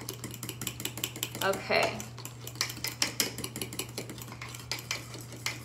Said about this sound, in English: make sure you whisk in that. I'm just using a fork.